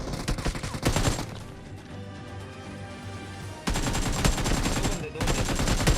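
Heavy automatic gunfire in a video game shooter crackles in rapid bursts, loud and dense, pausing briefly before another sustained volley erupts.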